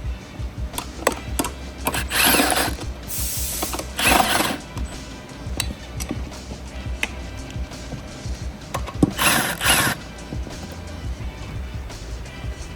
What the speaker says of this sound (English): You need a 12mm socket, an extension, and an impact. Simply remove the 4 bolts, and the wheel comes right off.